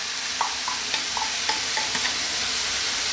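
Sauce or chutney sizzles steadily as it is stirred into a prawn curry in a pan, with light scraping taps of the spoon every half second.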